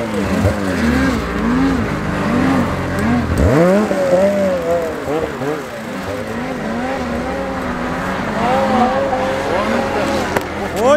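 A BRP Ski-Doo Summit 850X mountain snowmobile rides through snow in frosty conditions, its engine loud and close, revving up and down in repeated sweeping rises and falls throughout.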